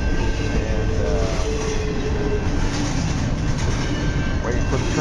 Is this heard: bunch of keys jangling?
no